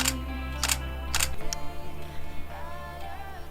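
A few sharp camera shutter clicks at 1/160 second snap in quick succession outdoors in a garden, then fade into a quiet hum.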